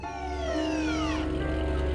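Emergency siren wailing steadily with a falling pitch sweep, fairly close and clear, heard alone without talk, as an ambulance arrives at a house.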